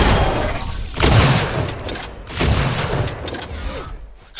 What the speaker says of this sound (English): Both players hit their sniper rifles.